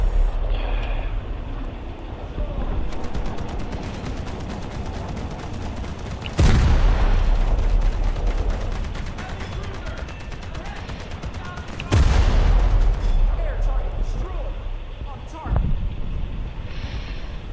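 Gunfire in War Thunder, heard as sustained rapid bursts and heavy booming shots that run continuously over a dense battle din, with a voice talking intermittently across it.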